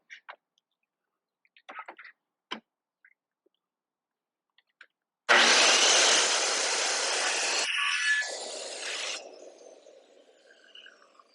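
Wood is sawn during a backyard fence gate repair: a few small knocks and taps, then a loud close burst of rough cutting noise that lasts several seconds and fades to a quieter rasp.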